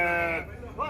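Nellore Jodipi lambs about a month old bleat at the Gudur sheep market: a short, close, wavering bleat, then a brief second call, with voices mixed in.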